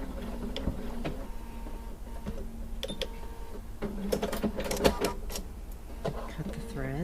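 A sewing machine stitches a quarter-inch quilt seam, slowing near the end and then backstitching in short bursts of rapid mechanical ticking, with a voice talking over it.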